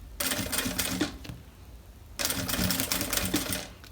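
Sewing machine stitching a seam along a zipper on plastic material while making a handbag, running in two close, steady motor-driven bursts separated by a short pause.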